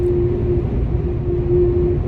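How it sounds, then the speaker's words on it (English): Steady whistling drone of wind blowing across metal ladder rungs, a constant sustained tone over broad rumbling wind noise, loud and unbroken throughout. "That beautiful sound you hear is the wind going over the ladder rungs."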